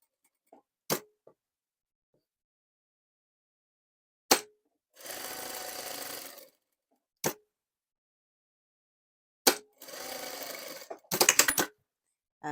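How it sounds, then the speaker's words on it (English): A sewing machine stitching down a pocket bag makes two short bursts of quiet whirring, separated by sharp isolated clicks and taps, close and otherwise silent. "just catch them in as you machine the pocket bag down."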